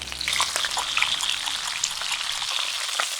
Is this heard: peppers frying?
yes